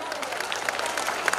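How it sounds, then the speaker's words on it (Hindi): Applause from the audience at the Panchmari Utsav 2019 festival stage event, a short, moderately loud burst of crowd clapping with scattered sharp claps and no voices over it. "एक बार जोरदार ताली हो जाए।"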